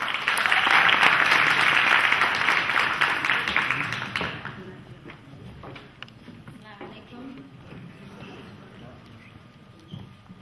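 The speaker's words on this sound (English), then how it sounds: "So round of applause one more time, guys, for Luna" An audience at a Somali community gala in Toronto applauds for Luna, a loud burst of clapping for about four seconds that quickly fades into quiet room noise and faint movement.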